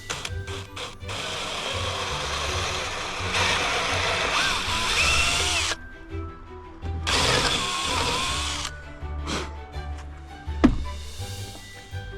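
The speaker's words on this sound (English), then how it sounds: "got to drill it out" A power drill drilling out a part: several long bursts of loud whirring and grinding, broken by short pauses and a few brief stops and restarts, close by with no talk.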